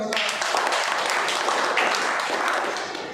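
Audience applause at a business seminar, a dense steady wash of many hands clapping that holds for about three seconds before easing slightly at the end.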